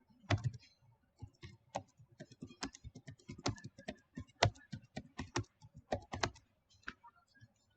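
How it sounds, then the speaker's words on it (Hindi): Fast typing on a computer keyboard during a Python typing game, crisp close key clicks in quick irregular bursts with short pauses between runs. "चलिए कितना फास्ट टाइप कर सकता हूँ देखते हैं"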